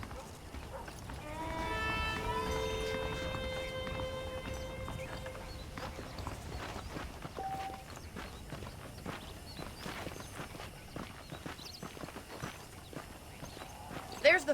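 Horse hooves clip-clopping at a walk in Red Dead Redemption on Xbox Series X, a steady rhythmic patter under a brief swell of background music and game ambience.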